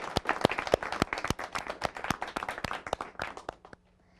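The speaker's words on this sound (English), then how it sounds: "Can we have a big round of applause for that?" A small studio audience at a live TV debate show claps for a few seconds in quick, uneven bursts that are fairly faint, then the clapping stops abruptly.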